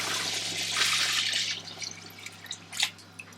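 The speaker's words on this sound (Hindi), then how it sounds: "तो मैं इसमें पानी डालने लगी हूँ।" Water is poured into a pot of chicken pulao rice, a broad rushing splash at first that thins into scattered drips and trickles, close by with no talk.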